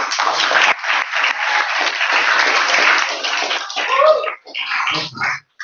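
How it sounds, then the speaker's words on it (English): Audience at a startup pitch event giving a team a round of applause: dense, band-limited clapping that holds steady, then thins out into scattered claps and brief voices near the end. "let's give them a round of applause"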